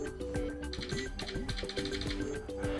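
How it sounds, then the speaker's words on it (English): Quick, irregular clicking and clacking of mechanical keyboard keys being pressed in a steady flurry, close up and fairly loud, with no speech. "you can pick up the mechanical keyboard, and that's how it sounds"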